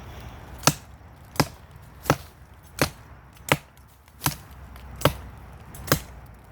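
A Schrade Makhaira machete chops into wood in eight evenly spaced, sharp strikes, each a crisp thunk with quiet pauses between, close and alone.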